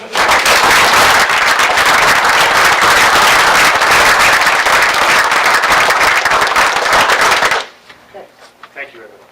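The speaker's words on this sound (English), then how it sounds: "So I'd like to have a big round of applause for Jane." Loud, close applause from the audience at a borough council meeting, many hands clapping in a dense burst for several seconds before stopping abruptly into a quiet room with faint sounds.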